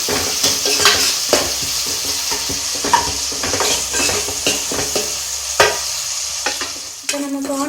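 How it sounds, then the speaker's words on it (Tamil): Onions fry in a pan, their close sizzle broken by frequent clacking stirs of a spatula against the metal. A louder clatter sounds near the end, and no voice is heard. "இப்போ நமக்கு ஆனியன் ஓரளவுக்கு நல்லா ஃப்ரை ஆயிடுச்சு"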